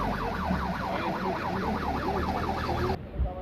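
An ambulance siren wails during a mock drill at Kansi Patta in Reasi, its rising and falling tone cycling rapidly and loudly before stopping abruptly near the end.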